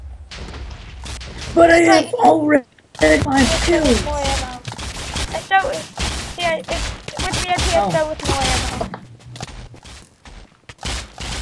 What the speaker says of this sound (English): People are shooting flashbangs.